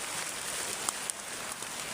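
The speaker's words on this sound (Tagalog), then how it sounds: "Sobrang yung ulan. Parang ayaw tumigil." Heavy rain pours down in a constant, even hiss, with a few sharper drops or splashes standing out briefly, and no voices over it.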